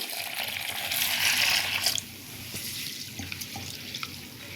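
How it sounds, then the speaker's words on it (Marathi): Water runs steadily from a tap over moong dal being rinsed for about two seconds, then shuts off, leaving faint drips and small splashes. "ही मूग डाळ आता आपण धुवून घ्यायची आहे"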